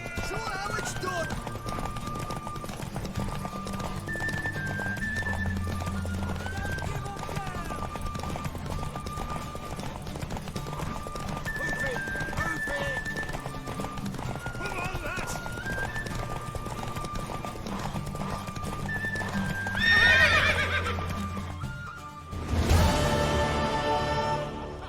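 Horse galloping during a race in The Witcher 3 video game, rhythmic hoofbeats under game music, with a sharp neigh near the end.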